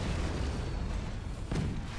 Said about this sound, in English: See the battery explosion just before it's imminent, just before the core goes up in flames